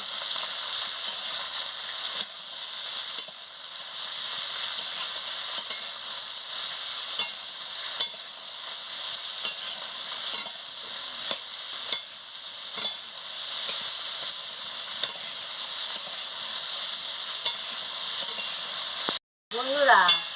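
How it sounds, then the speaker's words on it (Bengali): Pumpkin, potato and bitter gourd fry in oil while being stirred, making a loud, continuous close sizzle with scraping stir sounds throughout and a brief cut near the end. "দেখতে থাকুন আমি কেমন ভাজছি কুমড়া আলু উচ্ছে এর সঙ্গে দিয়ে"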